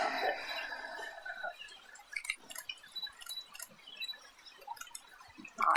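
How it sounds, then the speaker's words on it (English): Wine trickles in a soft, faint pour into a vessel at an outdoor wedding ranch, with thin dripping splashes against quiet background noise. "So each pour a little bit into that beautiful vessel."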